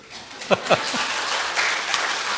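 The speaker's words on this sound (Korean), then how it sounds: "박수 한번 주십시오" A church congregation applauds during a Korean sermon, a steady moderate patter of many hands with a couple of brief voice sounds near the start.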